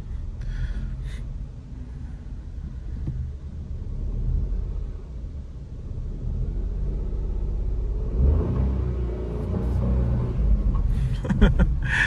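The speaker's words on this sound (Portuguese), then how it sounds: "Eu acelerei só para escutar o barulhinho do motor dele." Heard from inside the cabin, the three-cylinder 1.0 engine of a 2023 Renault Kwid Zen running on ethanol gives a low steady rumble that swells as it accelerates near the end, with faint cabin noises around it.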